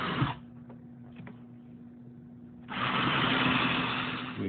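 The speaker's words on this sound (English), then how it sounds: "We're going to go ahead with our 7/64 drill bit" A power drill with a 7/64 drill bit bores holes through a template for a floor mount. A short whirring burst at the start gives way to a quiet pause, then a sustained, loud, high drilling whine fills the second half.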